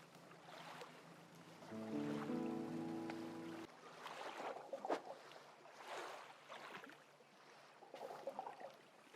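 A fishing boat's engine chugs steadily under lapping, splashing water in the video game DREDGE, a low hum in the early seconds giving way to irregular wash and gentle sloshing, faint and with no voices.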